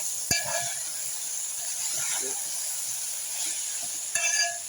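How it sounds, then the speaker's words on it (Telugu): Matti kayalu and brinjal pieces fry in a pan with a soft, steady sizzle and hiss, broken by a couple of sharp clinks at the start and near the end. "బాగా వేగినాయండి"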